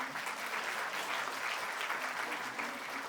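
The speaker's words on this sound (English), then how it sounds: "Can we have a huge round of applause for our wonderful parents?" Steady applause from the audience at a school annual day, honoring the parents; a dense, continuous wash of clapping that stays loud and even throughout with no voices over it.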